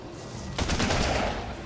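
Rapid gunfire in the survival game ARK: Survival Evolved, a short dense burst of automatic shots starting abruptly and fading slightly, close and moderately loud.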